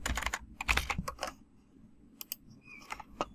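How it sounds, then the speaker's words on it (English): Fingers tap out a short file name on a computer keyboard, a quick run of close, crisp keystrokes, then a pause and a few more scattered clicks. "So I'll just type in CP underscore new."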